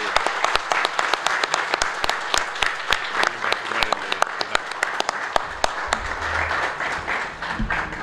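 An audience claps together at a deed handover ceremony for local residents in a municipal hall. The applause is dense and steady, with sharp individual claps all the way through, close and lively.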